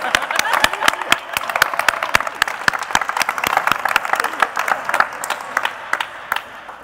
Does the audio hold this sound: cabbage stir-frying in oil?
no